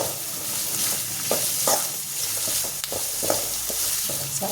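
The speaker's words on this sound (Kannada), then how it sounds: "ಜೊತೆಗೆ ಸ್ವಲ್ಪ ಕರಿಬೇವಿನ ಸೊಪ್ಪು, ಸ್ವಲ್ಪ ಈರುಳ್ಳಿದು ಹಸಿ ವಾಸನೆ ಹೋಗೋ ತನಕ ಫ್ರೈ ಮಾಡಿಕೊಂಡ್ರೆ ಸಾಕು" Curry leaves and onion fry in hot oil in a pan, a steady loud sizzle broken by repeated scraping and clattering stirs, close up and with no voices.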